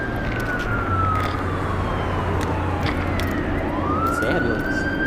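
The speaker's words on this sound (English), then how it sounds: "More sirens, love it." Emergency vehicle sirens wail at a moderate distance, their long tones slowly sweeping down and then back up over a steady background hum.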